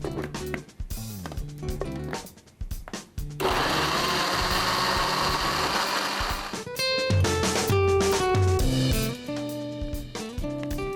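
Soaked chickpeas whirl in a blender, which runs in loud bursts and one sustained grinding stretch in the middle, with clunks and stops in between as the motor starts and cuts out.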